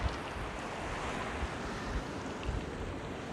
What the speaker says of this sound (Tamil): கடற்கரை கிட்ட வந்து நிற்கிறேன்.